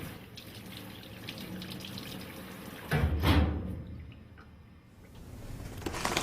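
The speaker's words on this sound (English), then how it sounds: "Rinse hands and arms thoroughly." Tap water runs steadily while hands and arms are rinsed during a surgical scrub. It is a continuous hiss and splash that swells louder for a moment midway, then eases back to a softer flow.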